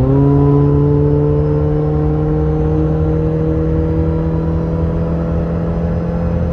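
A car climbing a mountain highway toward Big Bear keeps up a loud, steady engine drone with a rising tonal whine as it accelerates to pass a Toyota Tacoma. The sound is close and continuous, with no talk.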